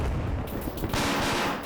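Grenades and gunfire burst in a modern-day Ukraine versus PMCs military video game battle, a dense, loud run of overlapping blasts and shots with no talking.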